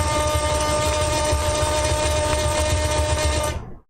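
The melody string of a UGEARS wooden hurdy gurdy sounds while it is tuned to D, giving a sustained, buzzing drone with a steady pitch under a mechanical wheel rumble, close and loud, then cutting off abruptly near the end.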